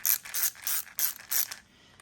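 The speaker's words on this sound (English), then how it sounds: "And we have the ratcheting screwdriver" A ratcheting screwdriver gives four quick bursts of crisp mechanical clicking, close and clear, followed by a short quiet tail.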